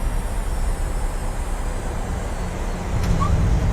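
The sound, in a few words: airliner touching down and decelerating, Microsoft Flight Simulator video game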